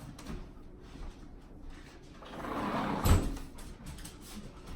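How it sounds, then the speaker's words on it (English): A door is pushed closed indoors, a soft shuffling movement that builds to one muffled thud, fairly quiet. "Hold on, I'm gonna shut my door."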